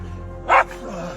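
A hunting dog gives a single sharp bark at a badger during a den hunt, loud and close against a low background rumble.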